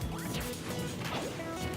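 Up smash attacks land in a Super Smash Bros match between amiibo fighters Pac-Man and Mewtwo, with dense crashing, thwacking hits over busy game music and effects.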